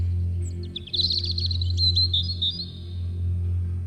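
Birds chirp at sunrise on a winter morning: a short run of bright, quick tweets rises near the middle, then fades. A steady low hum continues underneath throughout.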